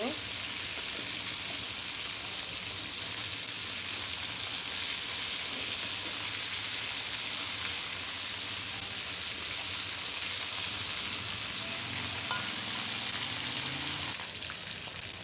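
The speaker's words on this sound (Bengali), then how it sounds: "এখন মাছগুলাকে খুব সুন্দর করে ফ্রাই করে নেব।" Steady, bright sizzling of tengra fish frying in hot oil in a kadai, a constant crackling hiss close up that continues evenly throughout.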